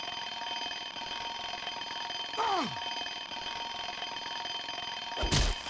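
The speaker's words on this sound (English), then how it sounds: "An alarm clock goes off." An alarm clock goes off with a steady electronic ringing tone held throughout, joined midway by a brief descending whistle-like sweep and ending with a sharp thud.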